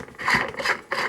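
Close up, a keg tool turns a homebrew keg spear with gritty, ratcheting metal scrapes in three short strokes, loud and alone.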